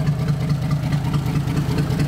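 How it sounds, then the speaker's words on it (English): A 1970 Toyota FJ40 Land Cruiser engine idles steadily and smoothly, a close, continuous low rumble with an even pulsing rhythm and no talk. "you can hear it idling."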